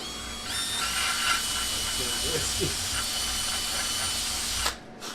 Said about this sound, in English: I'm gonna try a carbide long end mill in a hand drill